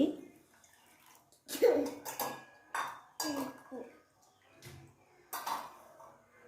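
Ground sathumavu milk mixture is strained into a tumbler, with clinks and taps of metal utensils and bursts of splashing liquid coming in separate short bouts.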